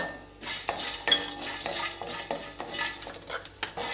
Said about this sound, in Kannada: ಬೆಳ್ಳುಳ್ಳಿ ಬೇಳೆ ಹಾಕ್ತಾ ಇದ್ದೀನಿ